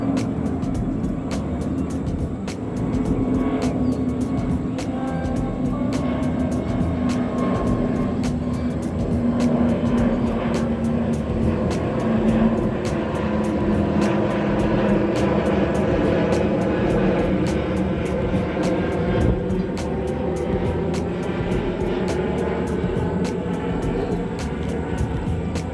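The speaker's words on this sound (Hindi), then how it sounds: "इस बीच देखिए एक एरोप्लेन हमारी तरफ बढ़ता हुआ आ रहा है, लगता है कि इसने पटना एयरपोर्ट से उड़ान भरा है।" A passenger airplane that has just taken off from Patna airport passes overhead with a sustained, moderately loud roar, heard over steady road and traffic noise from an elevated corridor in Patna, with no talk.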